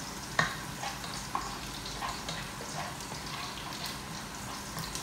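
Garlic fries in a pan for chicken adobo with a steady, quiet sizzle, broken by a few light clicks of stirring.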